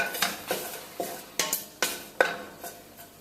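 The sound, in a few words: stirring seeds in ghee in a pan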